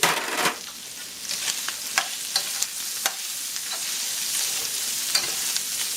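Green onion fries in a pan for fried rice: a constant bright sizzling hiss, close and fairly loud, with scattered clicks and scrapes of stirring.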